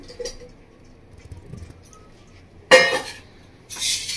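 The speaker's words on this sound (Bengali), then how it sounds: "তো আলুটাকে এবার আমি জল ঝরিয়ে নেবো, জল ঝরিয়ে আলুটাকে ঠান্ডা করে নেবো।" Water is drained from a pot of boiled potatoes. After quiet handling and faint clinks, two loud, splashy gushes of pouring water burst out close by, the second starting about a second after the first.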